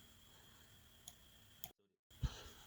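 A single computer mouse click lands sharply in a quiet room, a brief tick after a short silence, with faint earlier clicks in a low background hum.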